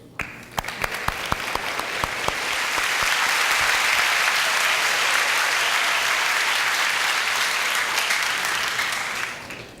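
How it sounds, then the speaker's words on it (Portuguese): A church congregation applauds the newly baptized during a worship service: a few scattered claps start, then swell into sustained, full applause from the whole room that holds steady before tapering. "Acho que podemos aplaudir a vocês"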